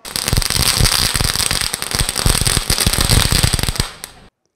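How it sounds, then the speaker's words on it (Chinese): Firecrackers set off at the start of a 160th-anniversary ceremony at Fude Temple in Yongzhen Village, Zhuangwei, Yilan, crackling as a dense, loud, continuous string of rapid pops that cuts off abruptly near the end. "鞭炮"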